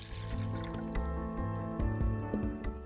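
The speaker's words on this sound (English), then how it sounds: "Fill your water tank half full." Water pouring into the water tank of a SPECIAL.T tea machine, with gurgling, filling tones and drips close by, steady for a few seconds.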